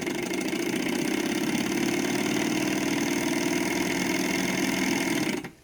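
A small Stirling engine, not yet fully hot, runs after being spun by hand to start, giving a steady, even mechanical whir with a low hum that holds constant for several seconds and then cuts off abruptly.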